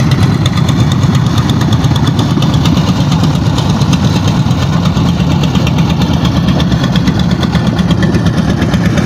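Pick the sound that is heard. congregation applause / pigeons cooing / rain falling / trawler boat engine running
trawler boat engine running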